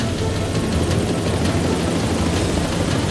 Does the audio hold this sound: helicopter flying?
yes